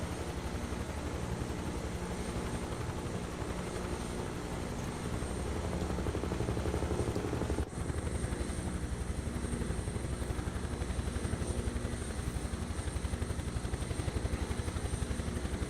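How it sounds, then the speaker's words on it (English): A Huey helicopter in Microsoft Flight Simulator 2024 runs steadily throughout, its rotor producing a loud, continuous chopping drone with dense engine rumble and no voices. "Such an iconic helicopter."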